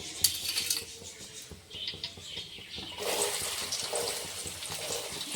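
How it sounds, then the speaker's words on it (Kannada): Chopped onion dropped into hot oil with cumin for egg bhurji; a soft hiss of sizzling swells up about halfway through and keeps frying steadily, close and fairly quiet, after some faint kitchen clinks. "ಇವಾಗ ಈರುಳ್ಳಿ ಹಾಕ್ಕೊಳ್ಳೋಣ ರೀ"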